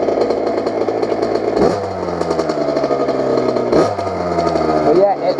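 A dirt bike engine revs loud and close as the throttle is twisted, its pitch climbing and dropping in repeated surges while a voice talks over the roar.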